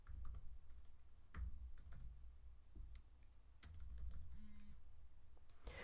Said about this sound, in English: Now I'm going to type cross dissolve, or begin to type cross dissolve.